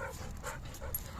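Dog whimpering and panting close by, quick breathy pants mixed with soft high whines in a quiet room.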